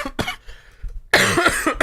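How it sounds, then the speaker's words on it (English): A person coughs several times in quick, harsh bursts, close to the microphone, with a short quiet gap in the middle of the fit. "while my cough settles down"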